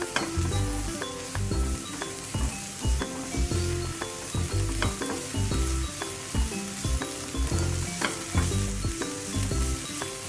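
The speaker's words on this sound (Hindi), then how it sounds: "इसे हमें सौते करना है। इसे 1 मिनट तक सौते करना है।" Chopped vegetables sautéing in a hot pan give a loud, continuous sizzle, with rapid rhythmic clinks and scrapes of a spoon stirring against the metal. No one speaks.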